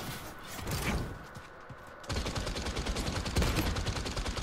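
Rapid bursts of gunfire in the magic-themed battle royale game Realm Royale, with a denser, louder volley of shots in the second half.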